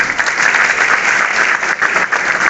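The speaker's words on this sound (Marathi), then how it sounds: "यांच्यासाठी टाळ्या वाजवा." An audience at a Vishva Hindu Parishad and Bajrang Dal voting-awareness lecture claps loudly and continuously, a dense crowd applause that stays close and full from start to end.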